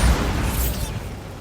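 Bombarda spell explosion from Hogwarts Legacy, a heavy booming blast with a rumbling low tail that slowly fades over a second or so.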